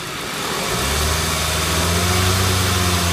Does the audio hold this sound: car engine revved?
yes